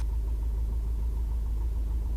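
The engine of an RV6 light aircraft runs steadily just after start-up, a constant loud low-pitched drone with a rapid throbbing pulse and no pauses.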